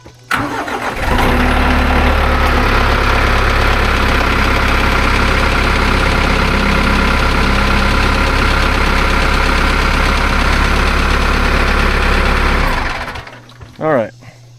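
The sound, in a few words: TYM 4815 tractor engine idling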